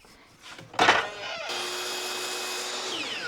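A power tool cuts an inch off a piece of wood: a sharp burst of bite into the stock, then a steady high whine running on alone.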